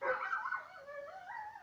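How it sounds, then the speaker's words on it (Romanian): A small dog whines and howls nearby in a single rising and falling wavering cry that lasts the whole moment. "Cântă și cățelul meu."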